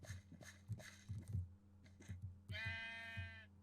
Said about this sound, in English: We remember how stupid Minecraft sheep are.